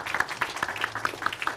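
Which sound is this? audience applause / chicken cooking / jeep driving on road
audience applause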